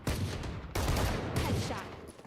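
Rapid bursts of gunfire in a Valorant match during a VCT Pacific esports broadcast, two sharp onsets followed by rattling shots, loud and close, with faint caster voices in the background.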